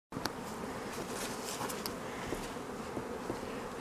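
Honey bees buzz steadily and densely around a beehive in a spring apiary, a continuous close hum with individual bees darting near and past, no talking.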